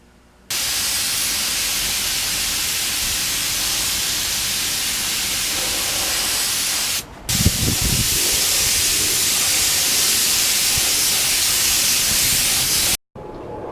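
A spray gun lays a dry coat of Gavco clear coat on carbon fiber, giving a loud, continuous close-up hiss that runs for about six seconds, cuts out briefly, then resumes for another five seconds.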